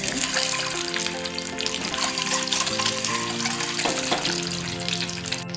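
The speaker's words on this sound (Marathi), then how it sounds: "आपलं तेल गरम झालं, आता अंडी फ्राय करून घेऊ" Eggs fry in hot oil for a dhaba-style egg curry, a steady close sizzle and crackle running the whole time at even loudness, with faint tonal hum underneath.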